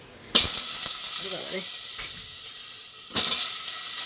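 Potatoes hit hot oil in a home kitchen with a loud, sustained sizzle that bursts in abruptly and surges again near the end, with a faint voice briefly underneath.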